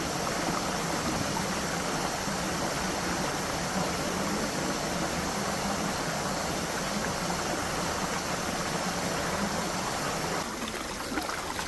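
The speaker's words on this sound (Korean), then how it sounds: "작은 폭포도 있습니다." A small waterfall and stream in the Neunggang valley in Jecheon, a steady, full rush of falling and flowing water that stays constant and close throughout, with a slight change near the end.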